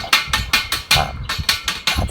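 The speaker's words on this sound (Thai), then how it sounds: "แล้วเคาะดูนะครับ เอา ขี้เหล็กออกนะครับ" Sharp metallic hammer taps on a freshly welded steel box-section joint, knocking off slag, about eight strikes in a quick, slightly uneven rhythm, close and ringing briefly after each blow.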